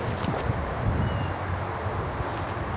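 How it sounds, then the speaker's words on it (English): Strong wind blowing across a disc golf course, a continuous broadband roar buffeting the microphone with steady low rumble, no voices. "Oh God, so much wind, right to left."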